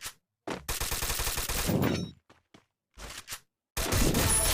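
Gunfire in the Free Fire battle royale game on the Kalahari map: a sustained rapid burst, then a few scattered single shots, and a final loud burst.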